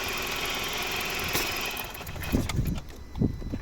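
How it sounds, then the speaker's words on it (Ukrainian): A 2005 BMW 316i 1.8 petrol engine with automatic transmission runs steadily at idle with a low rumble, then the tone shifts and uneven thumps and knocks come through near the end. "Ось робота двигуна."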